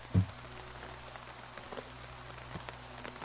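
Rain falling in the zombie survival video game Terminus Zombie Survivors, a faint, steady patter of raindrops with a single soft thump near the start and no voices.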